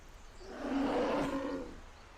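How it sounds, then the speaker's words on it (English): A big bear lets out a single mighty roar in a bedtime story, a deep, sustained growling swell that rises and fades over about a second, heard alone. "The big, bad bear reared up on its hind legs, towering over the little wolf,"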